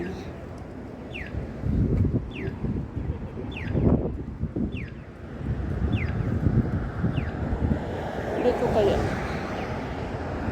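Wind gusting by the sea, buffeting the microphone in a steady rumbling roar, with someone talking over it and faint bird chirps in the background.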